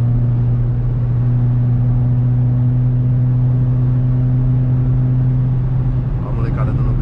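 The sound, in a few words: Renault Sandero RS car accelerating in sixth gear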